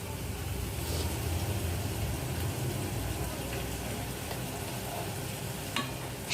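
Fish curry bubbling in a pot after fish is added, a dense, steady sizzling and simmering that runs without a break, with a faint utensil tap near the end.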